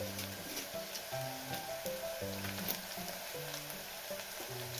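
Onions and slit green chillies frying in a pan for a mutton paya soup give a steady close sizzle, with a faint tonal hum underneath and no talk.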